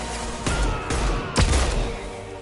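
Magnum pistol fired in the video game Mass Effect 2, three heavy booming shots spaced about a second apart over a steady background hum.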